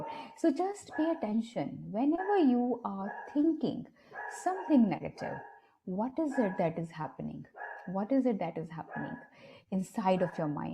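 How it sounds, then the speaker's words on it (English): A dog barks in the background indoors, sounding intermittently and fairly faint beneath a man's continuous close speech. "Sorry for my dog is barking in the background."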